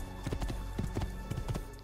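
Horse hooves galloping in Assassin's Creed II, a rapid steady clatter of hoofbeats, loud and close throughout the brief run, with no talk.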